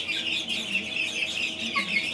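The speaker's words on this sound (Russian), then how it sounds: "Ну, один какой-то петушок уже начинает кукарекать." Three-month-old chickens kept in cages on a poultry farm, one young cockerel starting to crow amid repeated nearby clucking and squawking calls, fairly loud and continuous with no talk.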